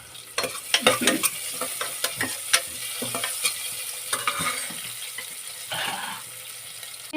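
Chopped onion fries in a hot pan for a Kannada avarekalu saaru masala, with a steady sizzle under repeated scraping and clattering stirs of a spoon, close by.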